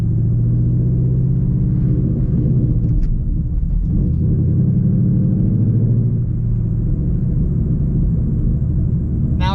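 Manual car engine driven by a learner off-road, a loud, steady low rumble that swells and dips as revs rise and fall through a gear shift, alone without talk.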